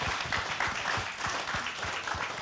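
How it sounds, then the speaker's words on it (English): Audience applause at a live song-sharing event, a dense steady crowd clapping throughout without talk, fairly loud and continuous. "please give these amazing people a round of applause"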